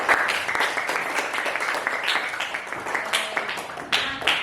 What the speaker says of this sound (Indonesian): yang pertama kita berikan aplaus dulu untuk kelompok 5 yang sudah